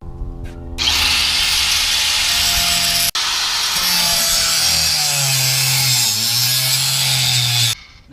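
An angle grinder cuts metal on a Mazda RX8 being lowered, a loud, steady high-pitched whine that starts abruptly, holds for several seconds with one brief break, drops slightly in pitch under load, then cuts off.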